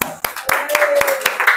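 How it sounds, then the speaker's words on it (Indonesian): Children in a classroom clap together, sharp regular hand claps about four per second, close and loud, while a teacher's voice continues in the background. "Tepuk tangan udah Adit."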